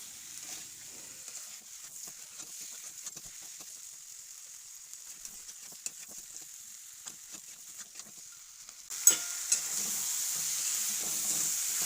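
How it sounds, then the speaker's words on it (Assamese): Chicken meat, local free-range bird, frying on high heat in a pan for a curry with spinach, with a steady sizzle and stirring scrapes throughout, growing louder near the end. "মাংসখিনি ভালকৈ মিক্স কৰি মই 5 পৰা 10 মিনিট হাই হিটত ভালকৈ ভাজি ল'ম।"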